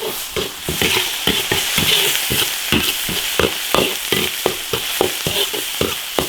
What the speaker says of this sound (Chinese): 炒香炒成红油